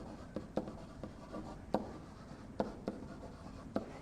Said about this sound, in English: Let me just write that in words.